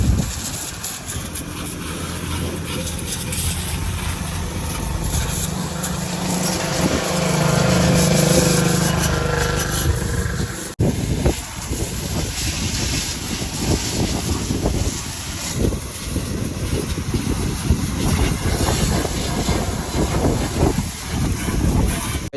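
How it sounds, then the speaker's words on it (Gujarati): A tractor engine runs steadily in a field before peanut sowing, a loud continuous mechanical drone that shifts in tone partway through, with no speech over it. "સર્વિસ કરવાનું ટ્રેક્ટર આપણે ચાલુ થઈ ગયું છે."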